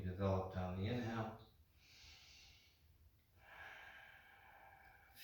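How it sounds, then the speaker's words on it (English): Slow, steady breathing during a gentle yoga flow: after a brief voice, a long, soft breath of air is followed by a second, close and quiet. "A few more steady breaths."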